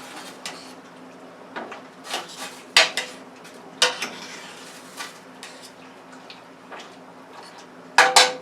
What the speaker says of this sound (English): we're going to give that a stir. Make sure it doesn't stick.